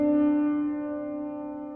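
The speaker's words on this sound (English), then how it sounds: "It is a 214 cent major second, and it sounds like this" A microtonal major second of 214 cents, tuned to a 43:38 ratio, sounds as a single sustained two-note tone rich in steady overtones, starting loud and slowly fading over nearly two seconds with no talking.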